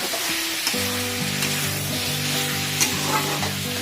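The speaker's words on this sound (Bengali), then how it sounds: "এবার এটা একটু ভাজা ভাজা হতে দিতে হবে।" Green chillies, whole garlic, tomato and spices fry in a pan for a light Bengali-style mutton curry, giving a steady sizzle under background music.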